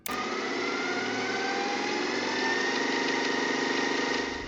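A VCR rewinding a videotape: a steady mechanical whir with a motorized hum, constant and close, slightly rising in pitch as it spins on for a few seconds.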